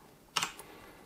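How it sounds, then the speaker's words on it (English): A short burst of computer keyboard keystrokes, a few quick clicks close to the microphone in a quiet room while a command is entered at an elevated Windows command prompt. "So what you need to do is type in sfc.exe"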